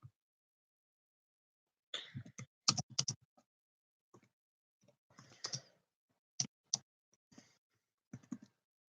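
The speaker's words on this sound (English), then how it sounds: "If I ever go quiet, it means I'm typing a message or I'm researching something." Bursts of typing on a computer keyboard, close and fairly quiet, with irregular clusters of clicks separated by silent pauses.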